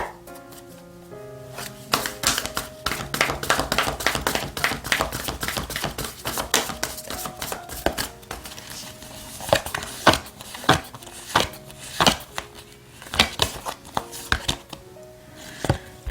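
Tarot cards are shuffled close by in repeated sharp riffling and tapping bursts, growing more rhythmic toward the end, with soft music playing underneath.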